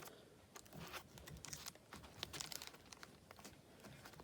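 A small piece of tape is pressed onto the end of a rolled paper towel tube for a homemade rainstick: quiet crinkly rustles and light taps, close and faint, with no voices.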